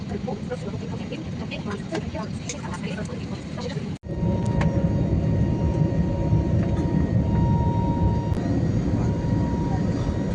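Aircraft at Fujairah International Airport give off a steady, loud broadband engine roar that runs the whole stretch, briefly dipping once before resuming even stronger.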